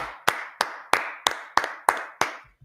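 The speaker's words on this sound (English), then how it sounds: "Let's clap it up for the Lord." Seven sharp, evenly spaced hand claps from a small group at a religious brotherhood class, crisp and close in a quiet room, with a steady rhythm of roughly three claps every second.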